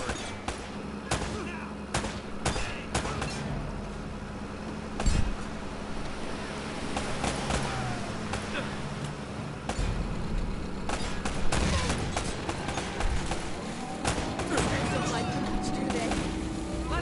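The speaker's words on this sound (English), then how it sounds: "Can I reload? More shooting." Gunfire from the video game Uncharted: Drake's Fortune, repeated sharp shots and bursts scattered across the clip amid busy game action, with voices talking over it throughout.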